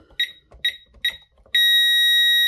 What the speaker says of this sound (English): system troubles, CPU tamper alarm, tamper open